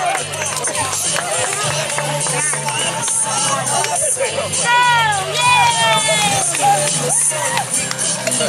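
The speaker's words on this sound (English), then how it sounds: "Give a big round of applause." An audience applauds and cheers for the M&M team at an Amelia Park Children's Museum charity event: a dense, steady wash of clapping and crowd noise with some whistles, filling the whole stretch.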